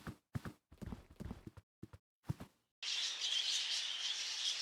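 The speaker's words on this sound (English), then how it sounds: "Loud ass birds." Birds chirping in The Last Door, a loud, bright, continuous chorus that bursts in abruptly after a run of short irregular knocks and taps, filling the rest of the moment alone.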